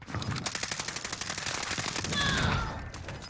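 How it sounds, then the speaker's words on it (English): Rapid automatic gunfire in a tactical video game, with dense bursts of machine-gun shots repeating through the whole stretch, loud and close, with no talking over it. "Taking fire here."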